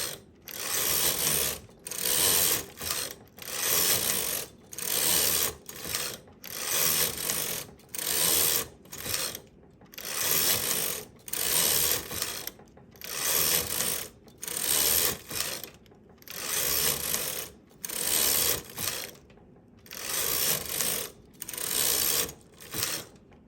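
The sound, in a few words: knitting machine knitting rows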